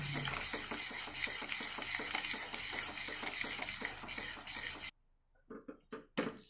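Continuous scraping and sloshing as a milk and ghee mixture is stirred in a pan for milk cake, steady and close for several seconds, then stopping into a few scattered clinks.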